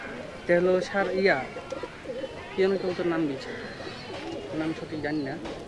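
Indian cross pigeons in a Rajshahi loft cooing in soft repeated bursts, fairly close, with people talking among them.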